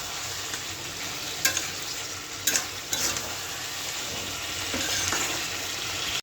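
Fried potatoes and green chilies are sautéed in a wok over a constant hiss of sizzling oil, with a few distinct spoon scrapes and knocks against the metal pan.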